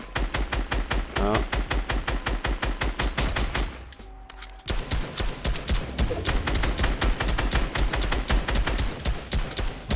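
Rapid bursts of automatic gunfire in a Fortnite Battle Royale match, loud and dense, with a brief pause before the firing resumes. Players talk faintly underneath.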